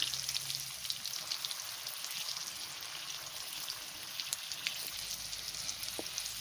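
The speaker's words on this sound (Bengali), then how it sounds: "আলুটা আমি একটু হালকা করে ভাজা করে নিই।" Potatoes frying lightly in oil for egg biryani, a soft, steady sizzle with faint crackles and pops running throughout at low level, no talking.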